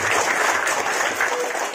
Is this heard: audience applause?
yes